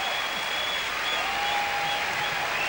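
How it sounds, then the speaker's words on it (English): Studio audience applause for Jerry O on a TV football talk show's grand final episode, a dense steady wash of clapping held at an even level from start to finish. "What about one more round of applause for Jerry O?"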